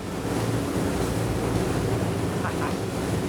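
Sea waves rush around a Bertram 54 motor yacht running at 40 knots, a loud, continuous roar of water and wind blast close to the hull with no voices.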